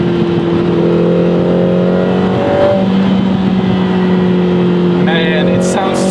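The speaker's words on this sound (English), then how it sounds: "let's enjoy those turbo sounds" Turbocharged four-cylinder engine of a Lotus Emira First Edition, a steady droning hum with a brief rise in revs near the end, close and fairly loud with no voices.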